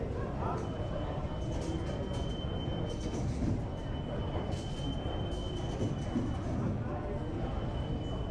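A New York City subway train at the Hudson Yards station rumbles steadily with a heavy low roar, faint wheel squeal and rattling, under a murmur of distant voices in the station.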